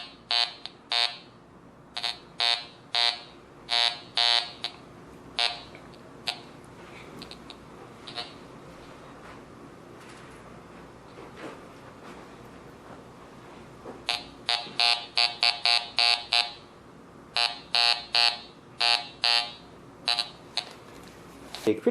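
Fisher F19 metal detector sounding a solid, steady tone over a nickel, repeated in short bursts with gaps between sweeps, close and clear with a voice talking in the quieter stretches.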